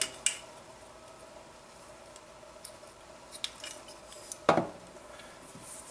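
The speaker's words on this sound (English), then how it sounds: "so now that the Allen wrench is being used to align it" Small metallic clicks and taps from an Allen wrench working a hammer's pivot pin into alignment, mostly faint and sparse, with one sharper scraping knock near the end.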